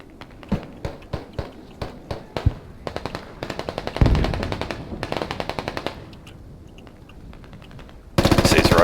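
Gunfire in the military shooter game Squad: several separate loud shots, then rapid sustained bursts of automatic fire, a pause with quieter rattling, and a final dense burst at the end.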